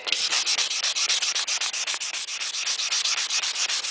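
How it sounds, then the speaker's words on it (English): Stainless steel trim hand-sanded with 400 grit sandpaper, a rapid, even back-and-forth rasping of about five strokes per second, close and loud with no other sound. "I continue to try to move my paper around so that I get new sandpaper on it, because the grit gets wore down very fast from stainless"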